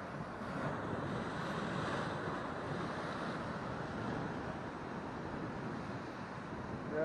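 Ocean surf breaks against the rocky shore at Montana de Oro near Morro Bay, a faint, distant wash of water mixed with steady wind buffeting the microphone.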